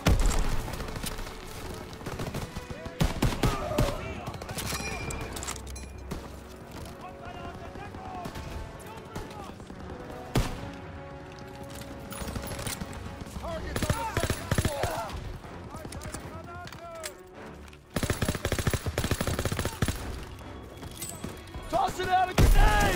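Heavy machine-gun and rifle fire in a Call of Duty WWII battle near a barn, with repeated bursts and sharp shots throughout, some loud and close. Explosions and shouted voices mix in.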